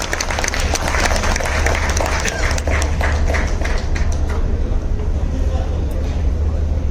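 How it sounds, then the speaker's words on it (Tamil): Applause for actor Bharath on a stage: a dense, loud crowd clapping that stays steady and then tapers off slightly toward the end, with some voices mixed in. "நல்ல கைத்தட்டல் கொடுத்துடலாம் for our hero பரத் அவர்கள்"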